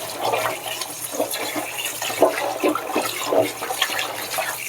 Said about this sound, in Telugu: నేనైతే ఇలా వాటర్ వేసుకొని కడిగేసుకుంటున్నాను